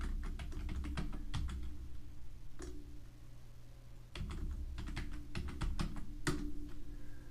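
Computer keyboard being typed on at close range, with a steady run of clicking keystrokes broken by short pauses and a tab key among the presses. No voices.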